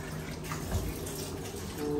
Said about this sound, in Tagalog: So, ang gagawin natin, lagyan natin ng konting tubig.